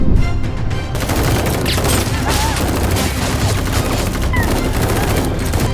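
Dense, continuous gunfire from a film shootout, rapid overlapping shots and automatic bursts filling the whole stretch at high volume, with no voices.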